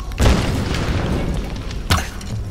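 Gunfire in the video game Tomb Raider Definitive Edition, with two heavy booming shots about 1.6 seconds apart over a dense, rumbling game soundscape.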